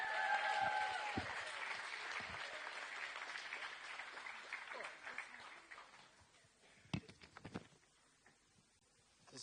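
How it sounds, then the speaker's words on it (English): Broad, dense applause from a crowd welcoming a speaker fills the first several seconds, then thins out into scattered claps and faint shuffling. "can we give a big round of applause for our next speaker, Manahi te Hiakai Gardiner."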